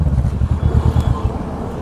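A Kawasaki Ninja 650 parallel-twin, 67 bhp, with an Akrapovic exhaust runs loud and close. It gives a deep, throbbing, evenly pulsing engine note with no speech over it.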